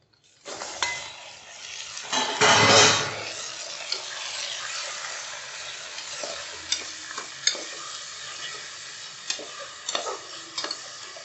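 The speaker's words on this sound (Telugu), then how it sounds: "కడిగి పెట్టుకున్న మాంసం వేసుకోవాలి" Washed mutton pieces sizzle and fry in a pan for mutton curry while being stirred, with a loud scraping burst early on and then a steady sizzle broken by irregular clicks and knocks of the spoon against the pan.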